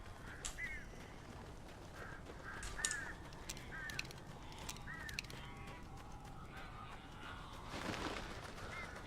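Crows caw in a series of short, repeated calls over a steady ambient rumble in the Alan Wake video game, a few of them spaced a second or two apart.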